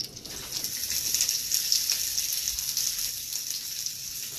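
Onions frying in a hot wok, a steady bright sizzle with soft crackle and spatter that holds at an even, fairly loud level throughout, with no talking.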